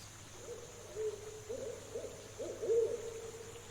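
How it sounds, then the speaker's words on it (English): An owl in a forest hoots softly from a distance, a series of low, muffled hoots repeating over a quiet background hum. "You hear an owl in the distance."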